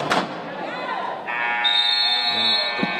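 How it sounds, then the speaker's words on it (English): A loud, sustained electronic end-of-period buzzer at a rugby match blares over crowd noise and a brief thump, holding steady to the end. "The buzzer's going to sound."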